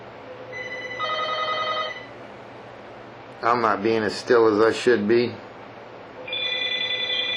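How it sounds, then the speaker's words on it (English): A telephone sounds its special ring in two short bursts of electronic trilling, one at the start and one at the end, with someone talking quietly in between. "The phone's ringing, I can't answer it, and it sounds like it's my wife."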